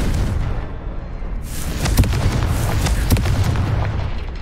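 A Confringo blasting spell explodes in Hogwarts Legacy with deep booming bursts, the loudest landing near the middle and another shortly after over a rumbling game backdrop.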